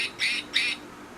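A small squeaky toy duck squawks twice in quick succession, each a short, shrill, close squeeze with a brief gap between, with no voices alongside.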